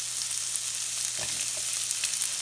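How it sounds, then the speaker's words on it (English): Diced white onion frying in oil in a pan, a steady hiss with a few faint stirring touches, close and without talk. "And then we're gonna add some diced onion, white onion."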